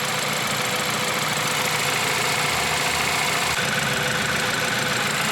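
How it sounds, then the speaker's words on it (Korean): A 2014 BMW 528i xDrive engine idles at a constant, even rumble, a steady mechanical hum with light vibration and no changes in pace, heard close and alone. "엔진음은 굉장히 일정하고 특별한 특이점이 없는 소리입니다"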